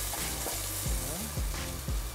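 Thick piece of lamb searing in a hot pan, a steady loud sizzle with crackling spits and a few low knocks from the pan.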